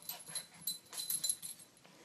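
A goldendoodle and a maltipoo play together indoors, giving off scattered soft whimpers, snuffles and faint yips in quick bursts, near but quiet.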